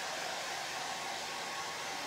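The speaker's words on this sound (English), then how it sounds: "we're going to use a blow dryer" Hair dryer blowing on a freshly painted t-shirt, a steady, loud, close whooshing roar that runs unbroken throughout with no voices.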